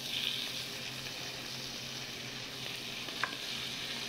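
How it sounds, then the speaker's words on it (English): An octopus sears in a hot pan, giving a continuous loud hiss and sizzle with a single sharp tap near the end; no talking. "Let's sear this, guys."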